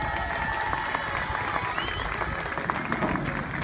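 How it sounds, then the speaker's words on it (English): Crowd applause for soldiers at an Armed Forces Day Royal Engineers bridge building demonstration in Liverpool, steady and dense clapping from a large outdoor audience throughout, with a few faint cheers mixed in. "now a big round of applause"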